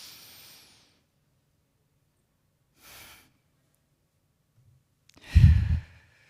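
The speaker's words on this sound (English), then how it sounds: "Breathe in, hold it for 4. Breathe out." Slow, deep breaths from a person leading a group breathing exercise at a lunch gathering: three airy exhales with long silent holds between, the last one the loudest and closest, with no talking.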